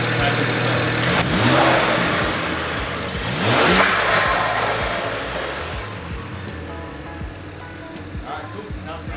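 A BMW 335is with BMS air filters revs loudly in a couple of sharp bursts close by, then settles toward idle, while people talk briefly under the engine noise.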